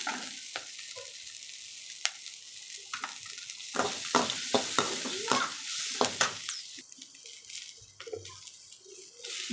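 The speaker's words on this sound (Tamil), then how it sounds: "வணக்கிக்கலாம் மிளகு பச்சை வாசனை போகிற அளவு வணக்கிக்கலாம்" Black pepper sautés in a pan for chickpea curry, hot oil sizzling steadily while a spoon stirs and scrapes in repeated, close, distinct strokes.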